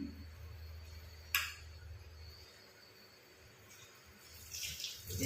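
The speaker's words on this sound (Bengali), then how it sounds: "একটু 1 আঁচলা মতন জল দিয়ে দিলাম" Water poured into a bowl of oats cheela batter, a quiet trickle with a small splash, then a louder pour toward the end.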